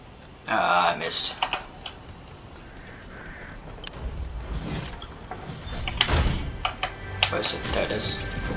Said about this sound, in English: I apologize for all of the key clicking noises